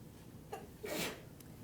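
A single faint sneeze sounds in a quiet lecture room, with a soft short intake just before the brief burst.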